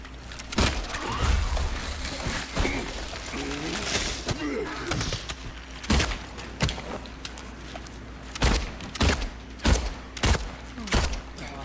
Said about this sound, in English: Panic shooting. It's never good.